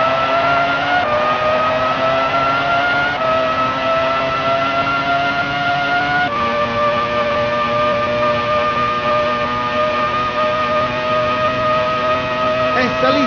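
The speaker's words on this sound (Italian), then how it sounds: "Sta accelerando forte adesso." A Formula 1 car from the 1996 video game Formula 1 accelerates hard, its loud, steady engine whine rising through the gears with brief shift breaks, close and continuous throughout.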